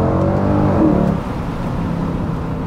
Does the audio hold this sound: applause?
no